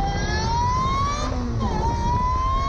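An Ariel Atom accelerates at full throttle on a circuit, its engine screaming loud and close as the pitch climbs steadily, drops briefly at a gear change, then rises again.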